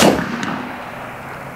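An AEA Challenger Elite air rifle fires a single sharp, loud report at an outdoor range, followed by a short fading echo and a faint distant smack.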